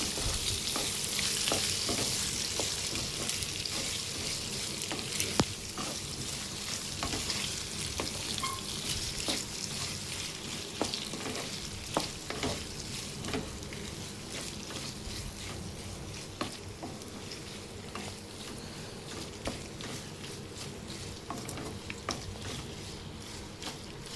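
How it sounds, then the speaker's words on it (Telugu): Boiled potatoes are tossed and stirred in a hot oiled pan for a home-style potato fry, giving a steady close sizzle broken by repeated scraping stirs and clinks of the spoon against the pan throughout. "బంగాళదుంపల్ని ఇందులో వేసేసుకోవాలి. వేసుకున్నాక చక్కగా కలుపుకోవాలి."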